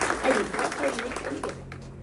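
Scattered, thin audience clapping at a Marathi political gathering, fairly close and brief, heard beneath a man's speech from the stage.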